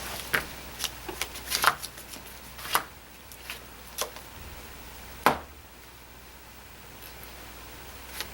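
A Magic: The Gathering card deck being cut and shuffled on a table, a series of crisp riffles and taps scattered irregularly over several seconds, fairly quiet and close with soft room hiss, no talk.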